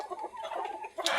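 Laying hens newly started on layer feed give a short burst of close clucking, ending in a sharper squawk.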